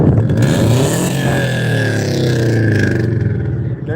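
A Subaru at a car show revs hard nearby, the engine note sweeping up and down in a loud rising and falling roar over a few seconds.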